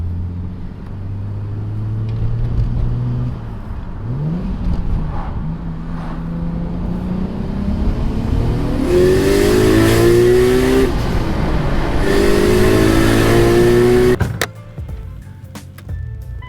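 A 530 hp Nissan Skyline R34 GT-R with a single-turbo conversion revs hard and close. The engine climbs and falls in repeated loud sweeps, then cuts off sharply near the end, with no talk over it.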